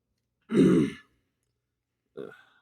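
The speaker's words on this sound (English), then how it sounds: "sorry, clear my throat" A single harsh throat clearing, then a second shorter, quieter one after a pause of over a second.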